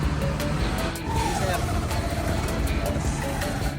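A motorcycle tricycle engine running close by, a steady buzzing drone, with people talking over it.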